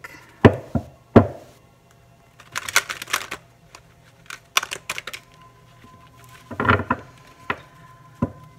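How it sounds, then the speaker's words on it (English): A deck of tarot cards being cut and handled, producing a series of short, sharp taps and shuffling rustles at close range with quiet gaps between them. "And then I'm going to cut the deck."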